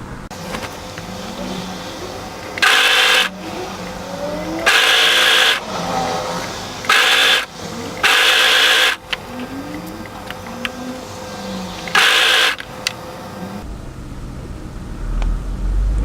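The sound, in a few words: overlocker sewing the hem of a tee dress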